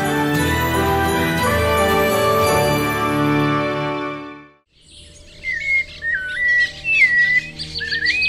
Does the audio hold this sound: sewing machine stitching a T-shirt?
no